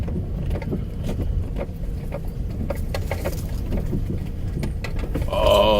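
Small off-road vehicle with locked differentials in first gear rumbling through a huge trail puddle, a steady low engine drone with splashing and water noise, close and continuous.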